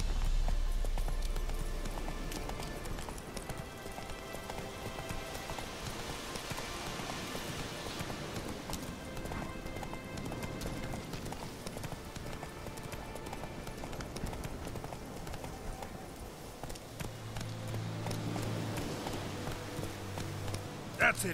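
Roach the horse gallops in The Witcher 3 video game, a steady run of soft clip-clopping hoofbeats under quiet game ambience and music, with a low rumble near the end.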